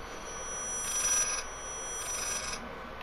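A telephone ringing in the horror game Layers of Fear, two quiet buzzing rings with a gap between, heard faintly over a steady background hum.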